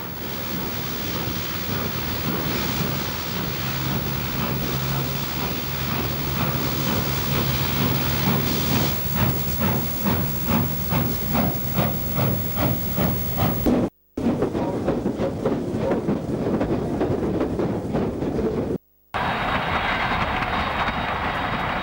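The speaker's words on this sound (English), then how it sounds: "3616 is seen departing Newcastle in August 1970 with a passenger train for Gosford." Steam locomotive 3616 pulls a passenger train for Gosford out of Newcastle in August 1970, chuffing steadily and speeding up, loud and close with rushing wind noise, the sound briefly cut twice.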